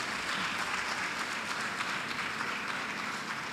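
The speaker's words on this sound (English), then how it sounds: "Another round of applause for our graduates." Broad, continuous applause from an audience at a primary school graduation, many people clapping at a steady, moderate distance for several seconds without speech.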